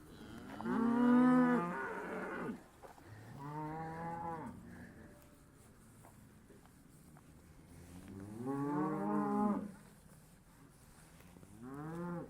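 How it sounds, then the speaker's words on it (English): Cattle being fed moo several times, long and loud, fairly close. Quieter farm background noise fills the gaps between calls, and no one speaks. "cows are getting fed right now"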